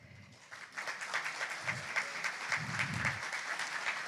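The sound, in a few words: audience round of applause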